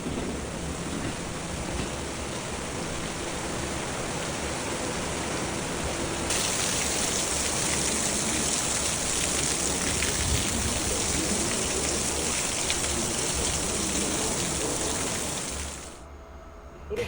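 Hard rain pours down steadily as a dense, loud hiss that barely changes in intensity for most of the stretch, then drops off sharply near the end; no voices are heard.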